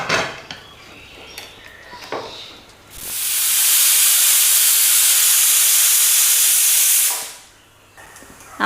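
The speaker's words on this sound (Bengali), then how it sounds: "আমাদের কুকারে কিন্তু 3টে সিটি দেওয়া হয়ে গেছে" A pressure cooker on a gas stove cooking dal lets off a loud, sustained steam whistle and hiss lasting about four seconds, rising abruptly and cutting off, with quieter kitchen clatter before and after.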